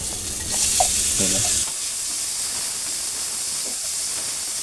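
Onions frying in a pan for a vegetable biryani, a close hiss and sizzle with a brief louder stirring burst early on, then a softer steady fry with no voices.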